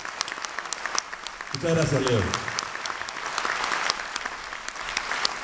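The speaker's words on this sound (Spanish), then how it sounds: "El aplauso para él y para toda su arte." An audience at a martial arts evening applauds with dense, continuous clapping, while someone briefly speaks over it.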